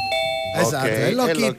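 A doorbell chimes with a steady, clear ding-dong tone for about half a second, then several people talk loudly over a lively room.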